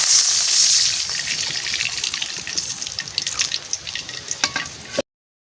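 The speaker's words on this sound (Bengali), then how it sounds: "এবারে জল দিয়ে দিচ্ছি" Water pours into a frying fish and bottle gourd curry, a loud rushing hiss and bubbling sizzle up close that thins into uneven spitting crackles before stopping abruptly, with no voices.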